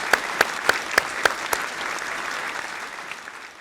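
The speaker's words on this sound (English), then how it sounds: "A round of applause to all who exhibited resilience in 2020" Audience applause at a regional chamber awards ceremony honoring resilient businesses, a steady crowd clapping wash with a handful of loud, evenly spaced nearby claps at the start before it fades out.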